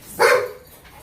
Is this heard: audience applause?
no